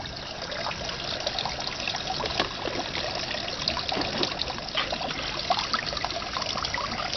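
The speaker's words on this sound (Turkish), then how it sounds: "Alttan aldığı pompa besin sıvısını yine bu şekilde üstten damlatarak bitkimizi besliyor." A hydroponic pump draws nutrient solution from below and drips it from above onto plants, giving a steady close trickle of water with small irregular splashes throughout.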